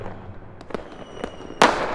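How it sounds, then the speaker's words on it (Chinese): Fireworks go off on New Year's Eve with several sharp distant pops and crackles spaced apart, then a louder, nearer burst with a crackling tail at the end, all against quiet night air. "今夜是除夕，外头烟花放得热闹"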